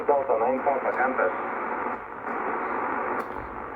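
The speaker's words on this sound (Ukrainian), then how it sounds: "Під'єднавши оцю металеву пластину, чуємо посилення шуму." Hissing radio static and faint garbled voice transmissions from a receiver on an indoor room antenna with a metal plate connected, the noise level holding steady and loud throughout the short stretch.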